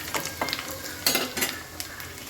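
Panch phoron spices dropped into oil with browning onions, crackling and sizzling in bursts as the pan is stirred, with sharp spitting pops and scraping over a continuous fry.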